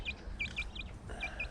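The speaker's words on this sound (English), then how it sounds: "parrots in the distance making all the noise, lovebirds in the distance, mating" Budgie-type parrots and lovebirds call in the distance during mating season, a string of short, bright chirps in quick succession over a soft background murmur.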